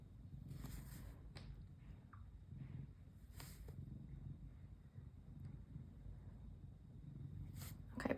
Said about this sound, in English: Okay, purring, that's a much better background noise.